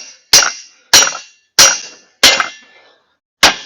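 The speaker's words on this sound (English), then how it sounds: "Let's see if I can break off the weld." Five sharp, ringing hammer blows strike metal to knock loose a weld on a MoJack EZ, evenly spaced about half a second to a second apart, each with a brief clanging decay, close and loud with no talking.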